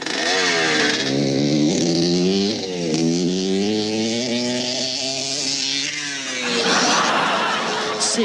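A motorbike engine buzzes loudly and continuously, its pitch rising and falling as it revs up and eases off, close by throughout.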